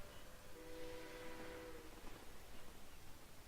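A train pulling into a station in the Sid Meier's Railroads game, with a faint rumble of rolling cars and a brief tonal horn or whistle near the start, quiet and steady throughout.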